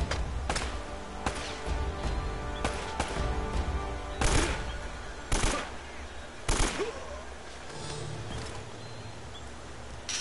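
Gunfire in the game Uncharted: Drake's Fortune, with scattered sharp shots and a few louder, closer bursts standing out over a steady background of game sound.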